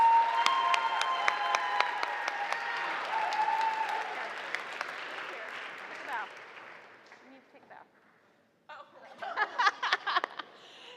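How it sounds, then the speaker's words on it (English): Audience applause at a school yearbook dedication ceremony, a dense wash of clapping that fades over several seconds, dips nearly to silence, then returns in a shorter burst near the end. "please give them a big round of applause"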